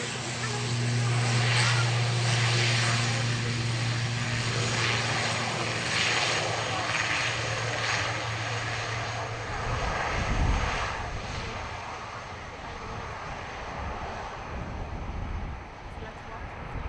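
An airliner taking off from runway 10 right at Dublin Airport gives a loud, sustained engine roar with a low droning hum that fades after several seconds into a broad rumble, with a voice talking over it.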